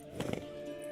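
Horse Roach from The Witcher game, a few muffled hoof thuds in quick succession at close range over a steady low background hum.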